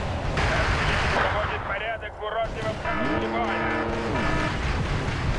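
Booming artillery fire in a Cold War wargame battle with T-80 tanks and BMPs, heavy rumbling blasts under engine-like drones and sweeping tonal game effects, with talk partly over it.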